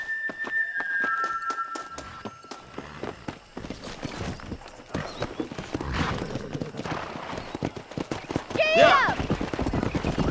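Horse hooves in the video game Red Dead Redemption 2, a fast, close, rhythmic clip-clop of a galloping horse with a neigh near the end, while a voice speaks briefly over it.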